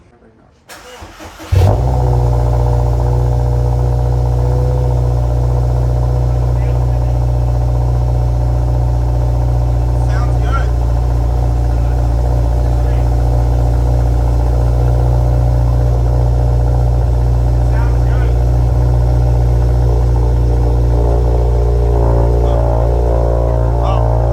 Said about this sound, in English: We'll get this started up.